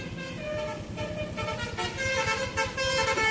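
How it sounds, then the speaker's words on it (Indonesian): A novelty bus horn honks in a tuneful series of toots over a rumbling engine, moderately loud and continuous for several seconds. "oh itu klakson bus yang lucu-lucu itu."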